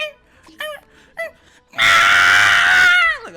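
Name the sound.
imitation of Scrat's scream from Ice Age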